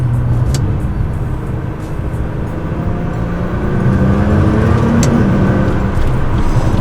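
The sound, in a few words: R35 Nissan GT-R driving and accelerating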